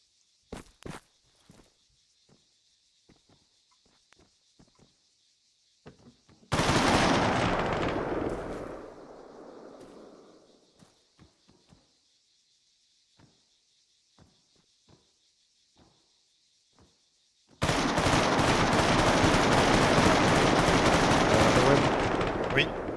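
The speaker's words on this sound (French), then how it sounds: "Ça a l'air de se rapprocher les tirs." Gunfire in the military game Arma 3, with scattered distant single shots and footsteps, then two long sustained bursts of loud automatic fire and explosions, under faint radio-like hiss.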